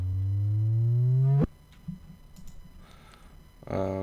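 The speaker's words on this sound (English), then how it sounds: "I have a reversed sub drop." A reversed sub drop: a low sub tone sweeps steadily upward in pitch for over a second and cuts off abruptly, followed by faint clicks and a brief low thud.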